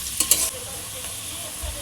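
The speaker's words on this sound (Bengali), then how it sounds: "এবার সব ভালো করে ভেজে নেব" Salted mixed vegetables for a Chinese-style dish stir-fry in a pan. A steady close sizzle runs throughout, with a couple of sharp utensil clinks near the start.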